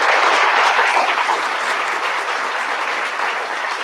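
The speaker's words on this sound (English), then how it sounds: "let's give another round of applause" A conference audience applauds after a plenary speech, a loud, dense and even spread of many hands clapping that holds steady throughout and eases off only slightly.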